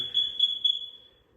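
A high-pitched electronic beep rings out in a basement, a single sustained tone lasting about a second before fading, close and fairly loud.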